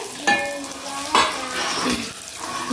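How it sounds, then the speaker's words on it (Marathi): Onion and green chillies frying in hot oil in a home kitchen, a steady close sizzle with a couple of sharp clatters as they are stirred in the pan. "तेल गरम झाल्यानंतर कांदा आणि हिरव्या मिरच्या टाकला तेलामध्ये. छान परतून घ्यायचा."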